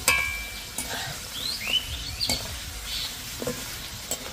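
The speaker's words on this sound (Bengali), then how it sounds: "তাই খুব অল্প আঁচে আস্তে আস্তে করে ভেজে নিতে হবে" Flattened rice and gram flour snacks frying in oil over low heat, a soft continuous sizzle with occasional light clicks and stirring taps, fairly quiet and close, with faint bird chirps in the background.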